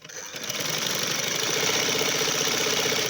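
A sewing machine running steadily as it stitches fabric for a V placket neckline with a flat collar, a close rapid mechanical chatter that builds up and holds an even rhythm.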